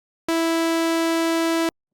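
Bright saw-wave synth tone with unison voices, built as a tonal uplifter for techno effects, holds one steady harmonic-rich note for about one and a half seconds, then cuts off abruptly.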